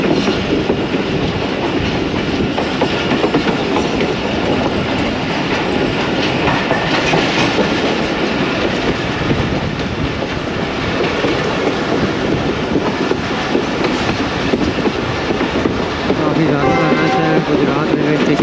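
A train approaching Gujar Khan railway station rumbles steadily along the tracks, heard on board, wheels clattering with a continuous loud roar, while people talk faintly in the background.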